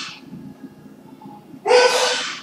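A single loud, sharp sneeze bursts out near the end after a stretch of quiet room noise and soft breathing, close to the microphone and standing alone.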